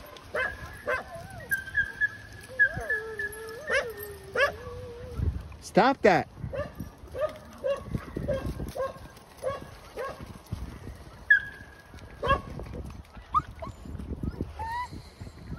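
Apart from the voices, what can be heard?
dogs whimpering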